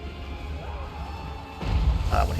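In a Total War Warhammer 3 battle, a cannon shot lands on a bear unit. A quieter stretch of low battlefield ambience gives way to a single heavy, crunching impact partway through, which stays loud to the end.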